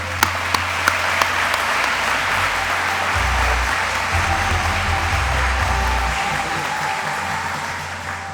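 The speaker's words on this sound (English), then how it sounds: "I want to give them a round of applause as well." Steady, full applause from a banquet audience honoring people on stage at an athletic awards night, a dense wash of clapping lasting several seconds with a low hum underneath.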